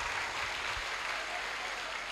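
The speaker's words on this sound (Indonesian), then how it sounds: "ya boleh tepuk tangan dulu dek" Sustained audience applause at a madrasa graduation ceremony and college launch, a dense, steady wash of many hands clapping at moderate distance, fairly even throughout with no talk over it.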